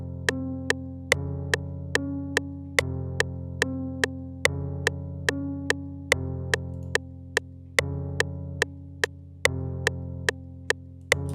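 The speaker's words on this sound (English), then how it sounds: "The easiest one you can use is halftime, because it's gonna make your piano sound like this." Piano chords slowed by the FL Studio halftime effect in a UK drill beat: low, sustained, stretched chords changing every second or so, with a sharp ticking click pulsing steadily over them, no talk.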